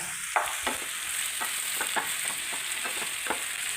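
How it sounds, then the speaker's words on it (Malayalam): Brinjal pieces frying in a pan are stirred, giving a steady hiss of sizzling oil broken by a run of scraping strokes at a regular pace. "നമുക്കൊന്ന് ഇളക്കാം"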